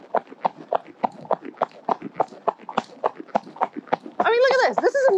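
Rhythmic clip-clop of a horse trotting in a saddle, steady evenly spaced hoofbeats close by, with a rider's voice calling out over the final second.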